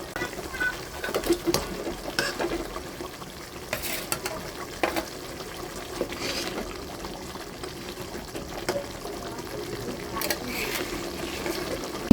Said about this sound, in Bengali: মাছগুলো ভেজে রেখেছিলাম ছেড়ে দিচ্ছি